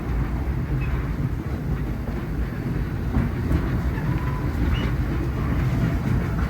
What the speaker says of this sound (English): please remain seated until the train comes to a complete stop